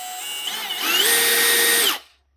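A Milwaukee M18 Fuel cordless drill whines at full speed, its pitch climbing as it winds up, holding a loud steady scream, then cutting off abruptly into silence.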